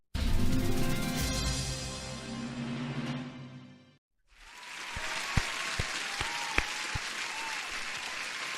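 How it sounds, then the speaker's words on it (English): Applause sound effect during a live futures day-trading stream, a dense burst of clapping that cuts out briefly, then returns with a crowd-like wash and a few sharp knocks. "Another applause."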